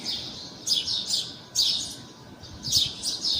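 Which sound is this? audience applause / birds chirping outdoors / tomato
birds chirping outdoors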